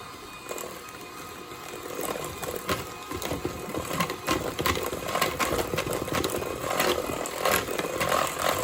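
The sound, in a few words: electric mixer beating batter with buttermilk mixture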